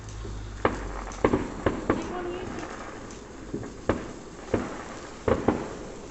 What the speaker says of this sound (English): those fireworks are loud, those ones are.